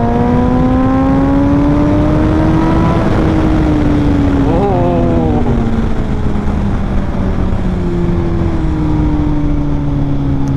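A 2018 Honda Fireblade SP superbike engine drones loudly and steadily while riding, its pitch climbing, dipping with a gear change, and then settling into a lower hum.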